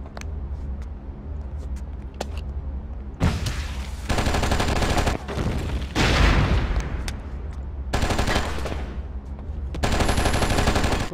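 SMG fire from an elite bruiser in the video game Oni, loud bursts of rapid automatic gunfire in several separate volleys with short pauses between them, close by.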